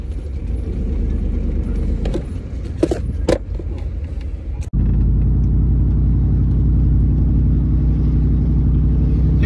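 A car driving through the streets of Tijuana, following other cars: a steady close engine and road rumble with a few mechanical clicks, with a louder, fuller rumble in the second half.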